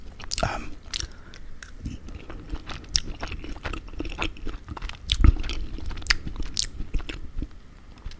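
Close, crunchy chewing and biting of carne asada fries, with irregular soft crunches and wet mouth sounds continuing steadily, plus a few sharper bites.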